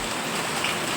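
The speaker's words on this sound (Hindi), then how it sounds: "बारिश तेज हो गया है" Heavy rain pours down in a steady, dense hiss of drops striking surfaces, loud and unbroken for about a second with no voices.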